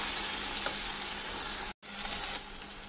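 Dried fish fries with bathua greens and spices in a pan, giving a steady close hiss of sizzling oil with faint stirring scrapes and a brief gap partway through.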